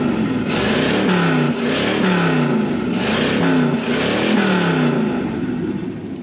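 A Ford Mustang with a 390 FE V8, idle for about two months, revs repeatedly in strong rhythmic surges. Each throttle blip rises in pitch and falls back, loud and close, with the engine note steady underneath.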